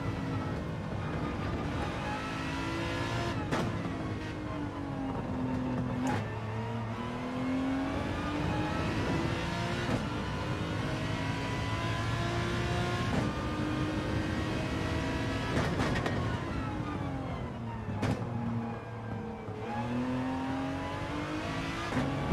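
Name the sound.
race car engine in Gran Turismo 7 video game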